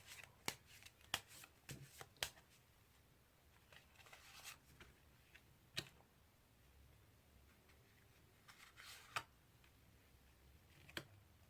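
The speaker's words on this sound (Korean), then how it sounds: "추가적인 카드를 좀 더 뽑아보도록 하겠습니다." Tarot cards are shuffled and drawn at a quiet table, with sharp isolated card snaps and flicks scattered at irregular intervals over faint background hiss.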